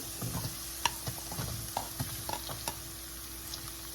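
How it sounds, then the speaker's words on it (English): Garlic and onion frying in four tablespoons of oil over medium-high heat, steady sizzle beneath irregular scraping and clinking as a utensil stirs the pan, close by with no voices. "Add the garlic. Stir for 15 seconds. Then add onion."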